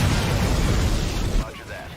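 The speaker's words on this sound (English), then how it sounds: "Explosions!" Dense, loud explosive rumble in a video game, a continuous blast of noise for over a second that suddenly cuts off to quieter sound.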